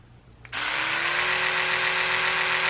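Oral-B Genius X electric toothbrush with a brush head fitted, switched on with a click and then a loud, steady, high-pitched electric buzz held close to the microphone, no talk.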